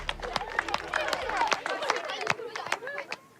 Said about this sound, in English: drop the rope and give yourselves a big round of applause